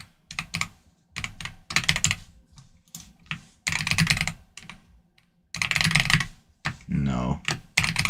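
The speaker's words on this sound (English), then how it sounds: "I'm so bad at typing." A computer keyboard rattles under quick typing in uneven bursts, up close, with brief silences between runs and a short stretch of muffled background sound near the end.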